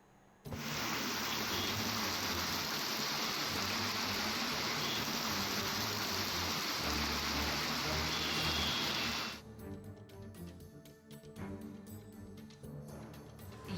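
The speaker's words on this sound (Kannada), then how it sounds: "ಎರಡು ದಿನ ಬಿಡುವು ಕೊಟ್ಟಿದ್ದ ಮಳೆರಾಯ ಬೆಂಗಳೂರಿಗೆ ಮತ್ತೆ ಎಂಟ್ರಿ ಕೊಟ್ಟಿದ್ದಾನೆ" Heavy monsoon rain pours down on Bengaluru in a loud, dense, steady hiss for about nine seconds, then cuts to a quieter street scene with softer rain and background noise.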